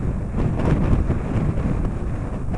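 Gusty, irregular wind buffeting across a hillside slope, a continuous low roar of rumbling microphone buffeting, close and fairly loud.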